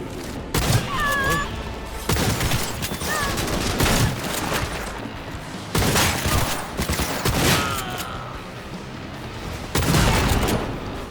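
Repeated heavy shotgun blasts from a cyberpunk first-person shooter, loud and close, fired in spaced bursts roughly every couple of seconds with booming tails and mechanical reload clicks between shots.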